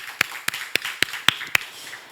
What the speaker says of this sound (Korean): 우리 하나님께 영광의 박수를 올립니다